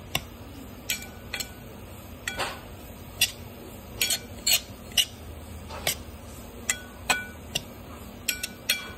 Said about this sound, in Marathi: रवा आपल्याला चांगला भाजून घ्यायचा आहे